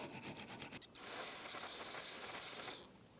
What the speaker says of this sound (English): So I'll take some parts cleaner and I'll just clean up the rest of the dirt.